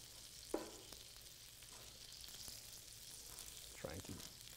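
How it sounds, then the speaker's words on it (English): Tomatoes sizzle steadily in a hot pan for a seared chicken quarter with red sauce, a quiet continuous frying hiss broken by a couple of soft scraping stirs near the start and end. "Just gonna keep stirring that tomatoes."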